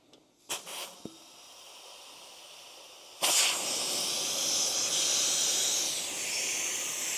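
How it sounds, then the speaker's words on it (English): Compressed air rushes into a dirt bike tire to seat its bead, a loud steady hiss that bursts in after a few short puffs and holds, with no talking. "I'm going to go ahead and hit it with some air so that it can seat the bead on the tire"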